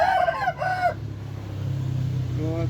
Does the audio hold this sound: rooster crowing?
yes